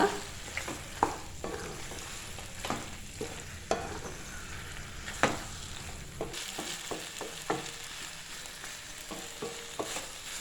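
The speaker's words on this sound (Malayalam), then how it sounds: "നമുക്കിനി ഇതിലേക്ക് ചിക്കൻ ചേർത്ത് കൊടുക്കാം. നന്നായിട്ട് മിക്സ് ചെയ്ത് കൊടുക്കുക." Chicken sizzles in a hot pan while a utensil scrapes and stirs in irregular strokes, close and fairly quiet.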